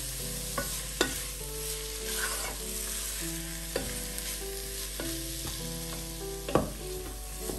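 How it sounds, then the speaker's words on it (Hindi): Khoya and grated radish halwa stirred in a pan, with a steady soft frying sizzle and scraping strokes of the spoon, plus a few sharper clinks against the pan, heard up close with no talking. "खोए को इतनी देर पकाना है कि ये दानेदार हो जाए हलवा।"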